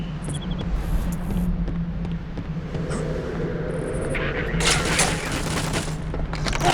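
Cannon fire from gorillas with cannon arms in the video game Vivisector: Beast Within, heard as bursts of booming, rapid gunfire over a steady low rumble, growing louder and denser toward the end.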